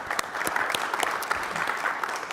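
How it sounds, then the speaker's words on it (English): Applause fills a city council meeting chamber, a steady dense patter of clapping hands with sharp individual claps standing out near the mic, continuous for the whole span with no talk over it. "I'm going to clap for that"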